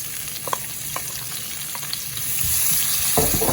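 Dried red chillies, curry leaves and onion hit hot oil in a pan, giving a steady close sizzle with scattered crackles and a louder burst of frying near the end; no talking.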